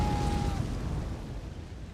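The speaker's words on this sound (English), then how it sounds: "it uses like most of my FP, but gives me an explosion and a bunch of little projectiles" A spell in the video game Elden Ring, set in the Forbidden Lands, bursts in a loud, broad explosion that rumbles and slowly fades, with a faint tone at the start.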